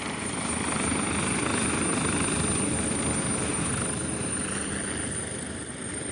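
An Armed Forces cargo helicopter drones loudly and steadily with a thick rotor and engine roar, close by and unbroken, with no voices.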